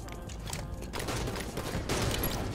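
Halo 5 Light Rifle gunfire in a video game match, a dense rapid burst of sharp shots and impacts, loud and continuous over the short span with no talk.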